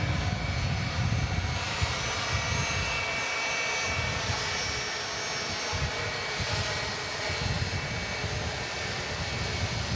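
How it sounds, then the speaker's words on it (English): A Virgin Atlantic Airbus A350 jet taxis at Manchester Airport, its engines giving a steady, loud roar and whine that holds throughout at close range, with no voices over it. "already on the taxi is the Virgin A350"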